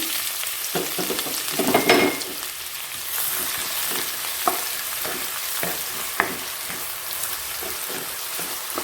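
Chopped onions frying in a pan for Bengali prawn malai curry, a loud continuous sizzle broken by scraping stirs and occasional sharper clicks of the spatula.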